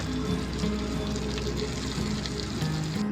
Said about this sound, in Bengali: এবার তেলের মধ্যে দিয়ে দেব একটি বড় সাইজের পেঁয়াজ কুচি আর দিয়ে দেব 5-6টার মতো চেরা কাঁচা লঙ্কা আর লাল লঙ্কা